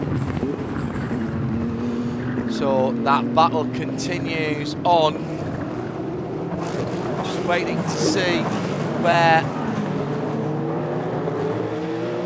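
Race car engines at the Long Beach Grand Prix sports car race drone steadily under continuous commentary, with rising and falling engine pitches as cars pass, plus several sharp high whines from nearby machines.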